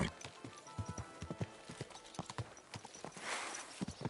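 Horse hooves clip-clop in the Kingdom Come 2 video game, a run of sharp, close hoofbeats in an uneven rhythm, followed by a brief snort or whinny near the end over a faint outdoor background.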